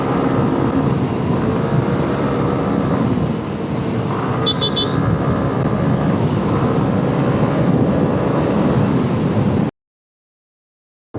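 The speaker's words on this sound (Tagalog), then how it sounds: "Napakatutulin ng motor." A Yamaha Aerox V3 scooter rides fast with other motorcycles on the road to the Pililla wind farm, its engine buried under heavy, constant wind roar on the microphone before the sound drops out near the end.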